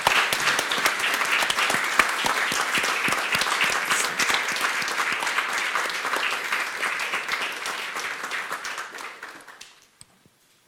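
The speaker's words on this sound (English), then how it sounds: "please join me in giving these speakers a big round of applause." An audience at a panel discussion on peace in the DR Congo gives the speakers a round of applause, dense clapping holding steady for several seconds before thinning out and fading to silence.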